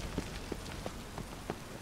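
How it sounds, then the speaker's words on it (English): Steady rain falls in The Witcher 3, a dense continuous hiss with faint scattered drip taps, even and moderately quiet with no talk. "It's raining, which kills my FPS."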